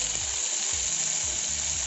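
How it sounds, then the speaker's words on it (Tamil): Tomatoes sizzle and fry in a pan with green chillies, a steady bright hiss with a few soft low bumps as the pieces settle, close and continuous with no talk. "இப்போ இதில் வந்து நம்ம டொமேட்டோ ஆட் பண்ண போகிறோம்."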